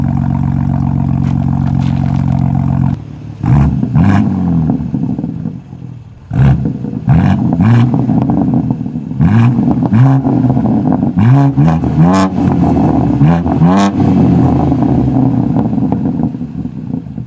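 A BMW G80 M3's S58 engine revs hard and close in Sport Plus with the exhaust valves fully open, sending out a string of loud, sharp rev blips that rise and fall over a steady, rumbling idle.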